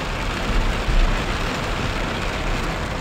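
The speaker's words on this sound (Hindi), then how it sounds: "बारिश की आवाज़ आ रही होगी, बूंदों की" Steady broadband hiss of rain drumming on a car, continuous and fairly loud, with a low rumble underneath and no talking.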